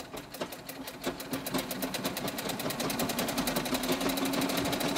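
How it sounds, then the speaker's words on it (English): Sewing machine running steadily while hemming pants that have zippers on the legs, a close, even rapid stitching rattle that speeds up slightly and keeps going alone. "Always like these longer pieces where once I get going, I can just sew."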